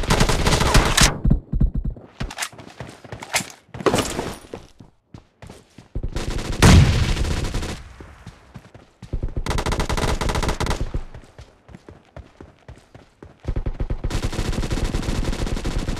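Long bursts of AKM rifle fire in PUBG Mobile, loud rapid automatic volleys separated by brief quiet gaps and followed by more sustained strings of shots, with no voices.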